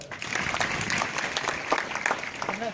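Steady crowd applause at a training workshop, many hands clapping at once, loud and continuous for a few seconds with a brief voice near the end.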